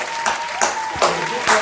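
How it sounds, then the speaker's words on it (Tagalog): Short bursts of audience applause at a home-building visit in the Philippines, clapping swelling several times over a steady mid-tone hum, with talk faintly mixed in. "Palakpak naman dyan."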